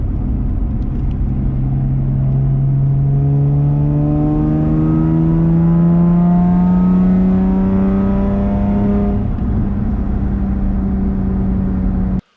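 A loud, raspy Nissan 350Z straight-pipe exhaust revs steadily upward to about 7,000 RPM and holds high, a continuous droning roar around 92 decibels heard from inside the car, windows up.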